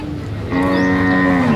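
Cattle at a Thai cattle market give one loud, close, drawn-out moo that starts after a brief moment of background noise.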